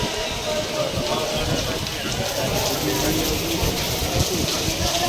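Heavy rain falling in Surendranagar where people wait for a train: a steady, dense hiss of rain that stays loud and unbroken throughout, with indistinct voices murmuring underneath.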